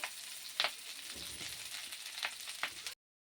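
Moringa leaves sizzle in oil in a pan, a faint steady crackling hiss with a few sharper pops, ending abruptly into silence.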